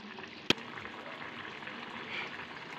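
A pot of ridge gourd and red gram curry simmering, a soft continuous bubbling hiss at close range, opened by one sharp knock of a spoon against the pot.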